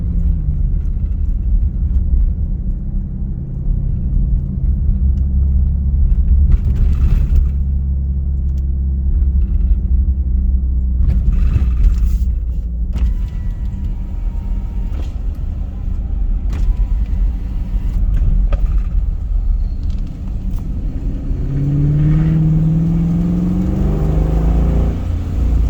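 Exhaust rumble of a 2017 Dodge Durango R/T fitted with a Mopar upgrade exhaust system, a steady deep drone heard from inside while driving, with a few swells of acceleration and no talking.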